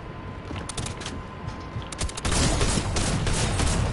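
Video game shotgun blasts fire in a dense, loud volley, with sharp repeated bursts layered over continuous rumbling battle noise that swells louder in the second half.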